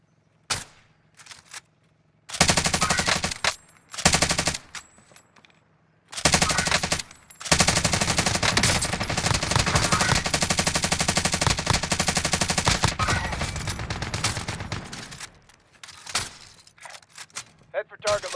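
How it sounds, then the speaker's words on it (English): Sustained automatic gunfire in a battle royale video game, with bursts of rapid shots breaking into long, loud continuous strafing, broken by short pauses and brief quiet gaps. "Stop shooting at me! Taking direct fire!"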